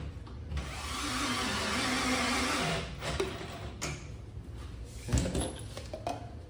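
A power driver drives screws into a eucalyptus wood patio rocking bistro set, a steady close whir for a few seconds followed by softer handling clatter and a knock.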